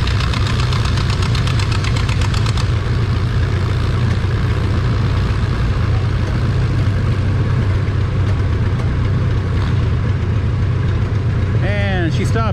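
Vintage D14 tractor engine pulling a sled at a tractor pull, a steady heavy knocking drone that holds loud throughout, with crowd noise and a voice talking over it.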